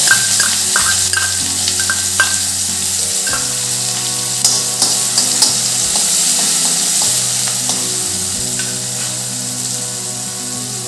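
Chopped onion sizzles steadily in hot oil over low heat with mustard seeds, cumin, asafoetida and curry leaves, a loud continuous frying hiss broken by a few scraping stirs of a spoon against the pan.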